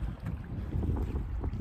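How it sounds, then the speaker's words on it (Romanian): Strong wind gusting on the snowy shore of Lake Tarnița in cold weather, a steady low roar buffeting the microphone with no voices. "A început să bată deja vântul foarte tare"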